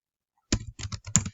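Rapid bursts of keyboard typing after a brief silence, clustered clicks and clacks close by, with short pauses between groups of keystrokes.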